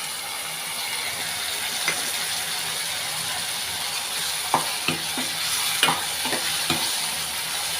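Tomato and ginger-garlic paste sizzles steadily in a pan for a Nellore-style fish curry while a spoon scrapes and stirs, giving sharp intermittent clacks over the continuous frying hiss.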